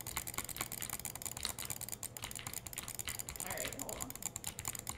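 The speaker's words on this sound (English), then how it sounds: "Why are your clicks so loud?" Rapid, hard mouse clicks clatter continuously during a Minecraft match on the Hive server, a dense run of sharp ticks with speech mixed underneath.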